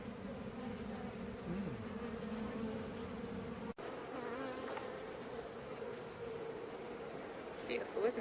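A honey bee swarm hums continuously around a brood box outdoors, a dense, steady buzzing close by that holds throughout with slight swells and a brief dip near the middle.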